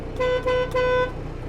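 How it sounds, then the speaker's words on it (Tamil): A Mahindra 6035 XPT tipper truck horn sounds three times in quick succession, short-short-longer, loud and close, with a low engine rumble underneath. "இதுதான் ஹார்னோட சவுண்டு"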